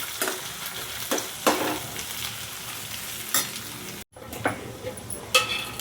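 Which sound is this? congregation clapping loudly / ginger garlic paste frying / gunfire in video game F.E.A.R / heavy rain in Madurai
ginger garlic paste frying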